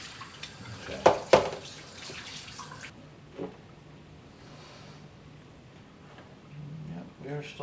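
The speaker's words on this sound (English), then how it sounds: "All right, shower's running." Water runs from a shower in a home bathroom as it is tested for leaks, a faint steady wash with a couple of sharp knocks near the start, while low talk murmurs in the background.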